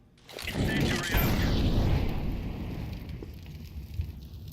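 An incendiary grenade bursts with a low boom and settles into a steady roaring, crackling burn in a shooter game, fading slightly over a few seconds.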